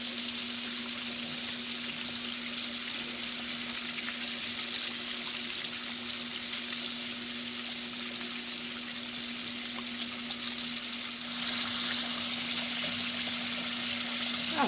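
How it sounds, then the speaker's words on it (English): Chicken leg quarters frying in hot oil give a steady, dense sizzle that holds at an even level throughout, close and continuous, with no talking. "Now I'm going to leave you alone to listen to that sizzle."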